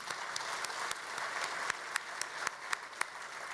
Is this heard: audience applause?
yes